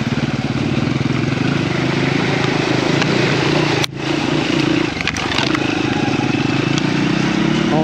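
A dirt bike engine runs loud and steady while riding through icy, hard snow, droning close with a brief dip in the middle and some clattering.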